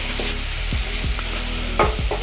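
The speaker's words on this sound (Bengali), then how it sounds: "দেখুন গাজরটা সুন্দর যেই ঘিয়ের সঙ্গে ভাজা শুরু হলো" Grated carrots fry in oil and ghee with a loud, close sizzle as a spatula scrapes and stirs them in several quick strokes.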